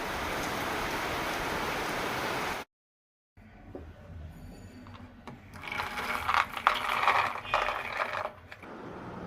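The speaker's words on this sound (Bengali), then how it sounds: "খুব বৃষ্টি শুরু হয়েছে আজকে সকাল থেকে" Heavy morning rain falling in a steady, dense hiss for a few seconds, then a short silence, followed by uneven patter and clatter that swells and fades.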